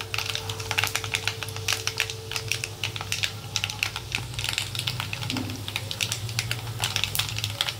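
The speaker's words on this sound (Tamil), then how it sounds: "இப்போது ரெண்டும் நல்லா பொரிஞ்சிருச்சு, செவந்துருச்சு வெந்தயம்." Mustard and fenugreek seeds sputtering in hot oil for a turmeric pickle, rapid irregular crackling pops close up over a low steady hum, continuing throughout, no talking.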